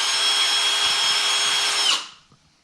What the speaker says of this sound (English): Don't drill through your hand.